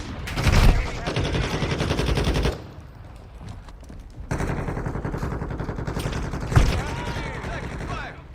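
Call of Duty Modern Warfare II gunfire: loud, dense automatic bursts in three stretches separated by short lulls, with sharp louder shots near the start and end and a little voice chatter mixed in.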